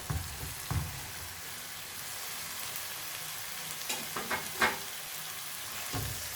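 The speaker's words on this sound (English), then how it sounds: "Now I'm gonna add the kebabs in there." Kebabs stirred into cooked yogurt with separated oil in a handi sizzle and hiss steadily, with a few louder scrapes and clatters of a spoon against the pot, close up and with no talking.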